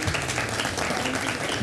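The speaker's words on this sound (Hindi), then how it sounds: "दोस्तों की भरपूर तालियां और आपको बहुत मुबारक हो।" Studio audience applause on a Pakistani television morning show, a steady dense wash of clapping filling the short moment without any talk.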